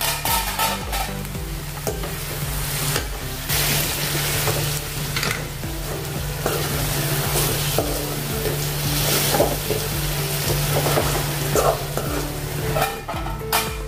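Okra (bhindi) sabzi frying and sizzling in an uncovered pan on low gas, a steady close hiss throughout with occasional scrapes and clatter of stirring.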